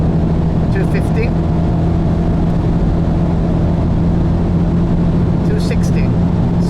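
A BMW X2 M35i run flat out near its top speed on the road, a loud steady engine drone with a constant pitch and heavy wind and road roar that stays dense and unbroken throughout.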